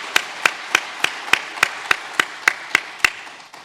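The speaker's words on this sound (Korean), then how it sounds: "우리 모두 이 시간에 우리 격려와 감사의 박수 한번 하도록 하겠습니다." A church congregation gives a round of applause of thanks for the Sunday school teachers, heard as about eleven crisp, evenly spaced claps in a steady rhythm. No one speaks over them.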